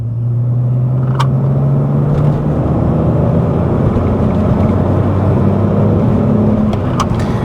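A BMW E46 330Ci straight-six revving while driving on an open road, a loud continuous engine drone that climbs steadily in pitch, heard from inside the car with no talking.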